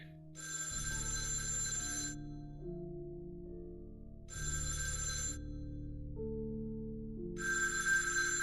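A telephone bell rings in three separate bursts, each lasting more than a second. The ringing is loud and clear, with a low droning tone running under it and no talk.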